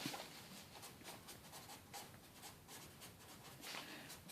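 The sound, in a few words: writing out notes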